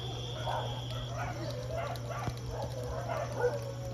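Several dogs bark in short, scattered bursts at a moderate distance near an outdoor kitchen where sticky-rice biko is cooked, over a constant low hum and chirping insects.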